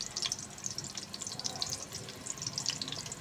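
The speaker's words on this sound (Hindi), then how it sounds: "अब हल्का सा हम इसके अंदर प्याज बारीक बारीक स्लाइस में काट कर इसके अंदर डालेंगे।" Thinly sliced small onions fry in hot ghee for a tadka for Kashmiri dal, a soft, close crackling sizzle with scattered pops, steady and alone.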